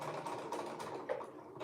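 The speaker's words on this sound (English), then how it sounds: "So I'm sewing this down at a 3/8 seam allowance" Sewing machine stitching a seam at a 3/8 inch allowance, a rapid, even mechanical chatter of the needle running steadily and close for under two seconds, no talking.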